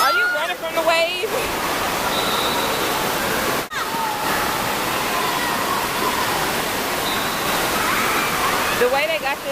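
A wave pool at the Great Wolf Lodge indoor water park churns with a broad, steady rush of splashing water, loud and continuous, while children's shrieks and voices rise over it at the start and end.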